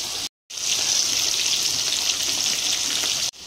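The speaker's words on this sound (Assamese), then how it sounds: "এতিয়া মাছ ভাজি আছোঁ মই" Fish frying in a pan of oil, a loud continuous hiss and crackle with one brief cut near the start, no talking.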